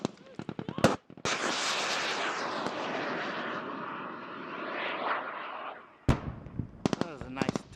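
A long, loud roaring rumble from a distant top-down artillery or mortar strike rolls on for several seconds, framed by sharp cracks and voices.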